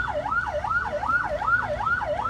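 An ambulance siren wails at a traffic accident scene in a town centre, a smooth rising and falling sweep repeating about five times in quick succession, loud and steady over low street rumble.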